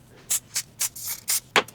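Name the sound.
spraying the wig lace before melting it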